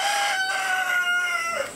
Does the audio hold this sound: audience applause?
no